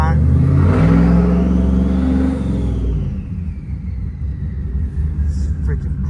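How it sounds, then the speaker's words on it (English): A lifted Ram 1500 truck with a Hemi engine, making 922 rear-wheel horsepower, roars loudly close by in a deep revving rumble that eases back to a steady idle. "Just need to start it up, you know, drive it around, get the fluids going and whatnot."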